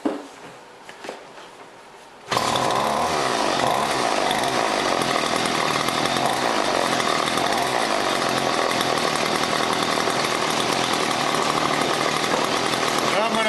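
A John Deere weed trimmer's small two-stroke engine starts up and then runs steadily at a loud, even idle after a few quiet handling noises.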